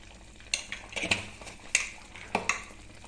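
Masala is sautéed and stirred in a pan over a low background sizzle, with a spoon scraping and clinking against the metal in irregular strokes, close and without talk.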